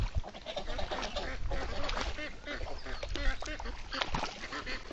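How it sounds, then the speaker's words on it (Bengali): White ducks on a village farm pond quacking in a lively, overlapping chorus, with many calls close by and continuous splashing activity. "এই যে কত সুন্দর হাঁস, সাদা হাঁসগুলা অনকাই গোসল করবো"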